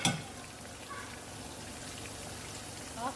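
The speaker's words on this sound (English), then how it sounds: "So we are going to wait for this to fry." Plantain chips fry in hot oil, a steady soft crackle and hiss with faint scattered pops, close and continuous throughout, no talking.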